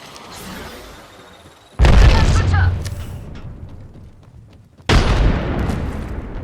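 Arc Star grenade blasts in Apex Legends, two loud booming bursts with crackling tails a few seconds apart, set against game noise.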